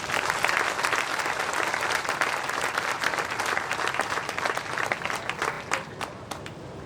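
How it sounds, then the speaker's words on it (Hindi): Strong crowd applause at a Maharao Ummed Singh II birth anniversary celebration rings out loud and continuous, easing off slightly near the end, with no voices. "आप सब एक राउंड तालियां जरूर जोरदार बजाओ"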